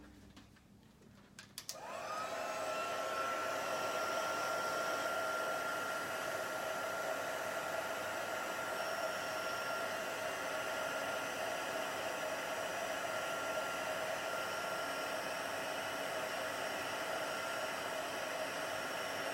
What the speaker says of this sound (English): I'm going to bring my heat tool in and just quickly heat emboss all those pieces